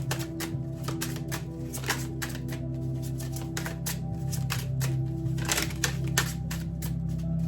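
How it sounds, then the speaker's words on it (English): Tarot cards printed in Spanish being separated and shuffled by hand, with dense rapid clicking and riffling flicks running steadily close by, over a faint constant background hum and no talk. "I'm just trying to separate the cards because I read in Spanish and sometimes those cards get stuck"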